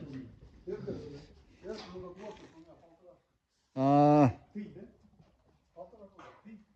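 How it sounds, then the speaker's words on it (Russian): One loud, drawn-out cow moo rises nearby between stretches of people talking. "Вот коровы"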